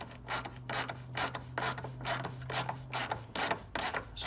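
A 9/16 socket wrench tightens down the heat shield during a K&N cold air intake install on a Chrysler 300. The ratchet gives repeated rasping clicks in steady rhythmic bursts, close and fairly loud.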